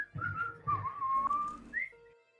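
Someone whistles a faint, wavering tune of sliding notes alone, without any talking, ending on a short rising note.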